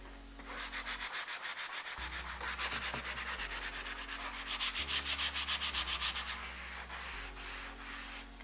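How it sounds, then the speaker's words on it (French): A sanding block is rubbed lightly over a furniture piece's surface, making close, rhythmic back-and-forth scratchy strokes with brief pauses and no talking. "maintenant je vais le poncer légèrement avec le bloc à poncer pour bien rayer la surface"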